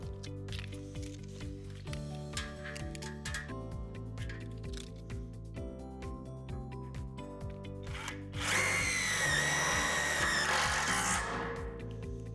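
Power drill driving a self-tapping screw into the metal pole of an in-ground basketball system, first in short whirring bursts, then a louder continuous high-pitched grind as the screw bites in.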